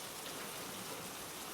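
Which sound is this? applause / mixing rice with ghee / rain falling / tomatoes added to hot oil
rain falling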